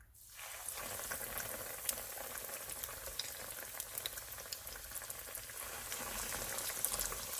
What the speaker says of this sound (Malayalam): ഇപ്പം നമ്മുടെ എണ്ണ ഇവിടെ ചൂടായിട്ടുണ്ട്. ഇനി നമുക്ക് എടുത്തു വെച്ചിരിക്കുന്ന കട്ട്ലറ്റ് ഇതിനകത്തേക്ക് ഇട്ട് കൊടുക്കാം